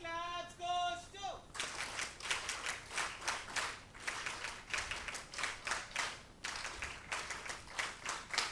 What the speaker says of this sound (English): Can you all clap for them?